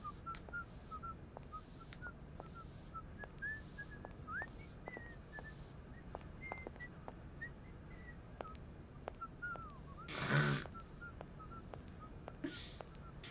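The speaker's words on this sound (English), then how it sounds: "I can hear somebody bloody whistling." Short whistled melodic phrases drift through a video game scene, repeated several times over a faint ambient background, with one brief louder burst partway through.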